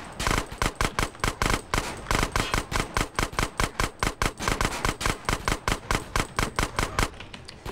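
Rapid, loud bursts of automatic gunfire rattle almost continuously in GTA San Andreas, a repeating machine-gun-like stream of close shots with brief gaps between volleys.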